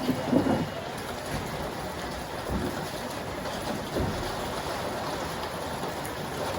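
Steady, dense rainfall hisses without a break over countryside fields, with a few heavier splashes early on and a faint low rumble underneath.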